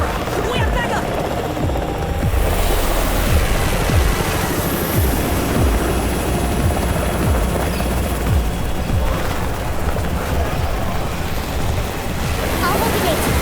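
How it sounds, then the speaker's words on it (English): A helicopter arrives in the mobile video game Undawn Mobile, a continuous loud rotor whir and wash blended with surf-like noise, with voices speaking over it. "It's the Raven's chopper!"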